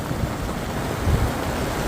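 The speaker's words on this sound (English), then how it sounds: "getting rained on, sorry." Heavy rain and wind pound a leaking tent pitched beside a river in a supercell storm, a loud continuous roar of broadband noise with gusty surges and no speech.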